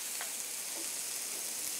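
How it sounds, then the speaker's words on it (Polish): Blanched broccoli, previously boiled in salted and sugared water, fries in a pan, giving a soft, continuous sizzle with faint stirring noises and no voices. "Brokuły wcześniej zostały zblanszowane we wrzątku z solą i z cukrem, także niedługo muszą się smażyć"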